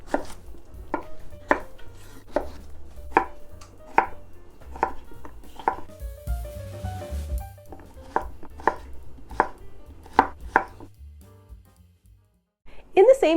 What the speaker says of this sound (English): and I'm also chopping half a zucchini.